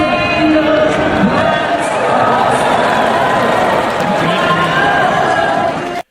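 Large British arena crowd cheering and yelling loudly, a dense, continuous roar of many voices with shouts rising out of it, sustained at full volume throughout before cutting off abruptly.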